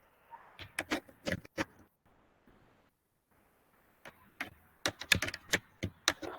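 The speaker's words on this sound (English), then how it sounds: "Do you mind typing in the chat box again for us, Angela?" Someone types on a computer keyboard into a chat box, bursts of sharp key clicks, a quiet pause in the middle, then a faster run of taps, close and alone.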